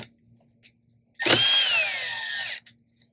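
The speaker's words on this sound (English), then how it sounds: "To get started, I'm going to use the power driver here. I'm going to loosen the 6 captive screws here." A power driver whirs steadily for about a second and a half while loosening one of six captive screws during a MyLevel battery replacement, close and clear in an otherwise quiet room.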